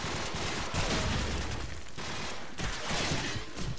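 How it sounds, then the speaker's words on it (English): Dense gunfire from Call of Duty 4 rattles in rapid bursts, loud and close, with sharp overlapping shots and brief gaps, no talking. "What the fuck am I being shot at?"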